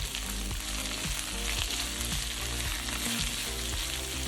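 Minced garlic fries in a pan over medium heat for a Korean stir-fried webfoot octopus dish, giving a steady, close sizzle with light stirring scrapes throughout, no talking.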